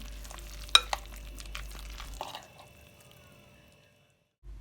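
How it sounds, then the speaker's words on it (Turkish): Mücver batter with green onion stirred in a bowl, a few wet scrapes and taps of a spoon over a low hum, close, then fading to near silence. "Yeşil soğanı ilave ettikten sonra iyice karıştıralım."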